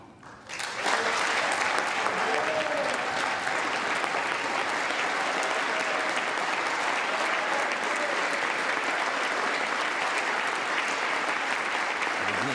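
Sustained loud applause from lawmakers in the chamber of Congress during a presidential address, a dense wall of clapping with crowd noise that holds steady for over ten seconds after a sudden start.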